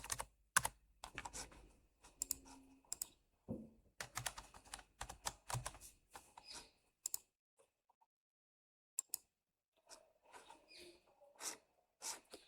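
Computer keyboard typing in quick irregular bursts of close, light key clicks, with a short pause midway before the tapping resumes.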